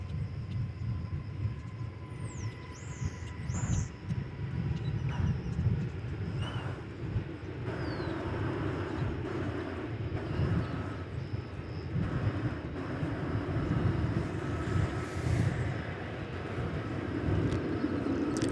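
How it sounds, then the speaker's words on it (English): American Airlines Airbus A321 touching down at DFW Airport after a flight from Salt Lake City, a moderate, steady rumbling roar with irregular gusty bursts and faint chirps over continuous background noise. "Touching down from Salt Lake City. Airbus A321."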